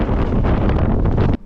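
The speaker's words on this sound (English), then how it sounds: "it's bloody windy out there" Loud, roaring gusts of 50-knot storm wind on Porto Santo buffeting the microphone, rumbling heavily before cutting off abruptly.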